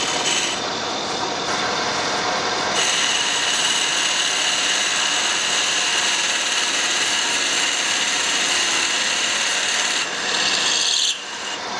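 A Myford lathe fitted with a quick change tool post runs under power, cutting with a steady loud rasping, hissing whine that holds for several seconds, briefly eases near the end, then resumes.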